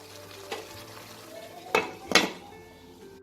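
Afghani chicken tossed through its gravy in a pan, a low sizzle under a few clinks and scrapes of a spoon against the metal.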